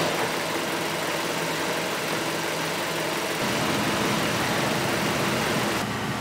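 A 2016 Jeep Renegade idles steadily, its engine hum blending with a strong, constant rush of air from the air conditioner blowing, loud and unbroken throughout with no talk.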